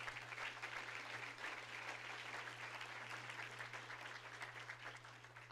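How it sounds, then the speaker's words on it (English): A conference audience applauds at a City of Chicago environment department event, a steady wash of many hands clapping at a distance, fairly faint, under a low constant hum. "Just give them a round of applause."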